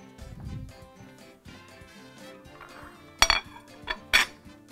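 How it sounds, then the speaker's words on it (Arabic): A plate being set out in a kitchen while a roast chicken sandwich is prepared, with a soft low thud, then a sharp ceramic clack followed by a couple of lighter clinks close by, against faint background music and no talking. "تمام نجيب الطبق عشان يبقى جاهز على طول"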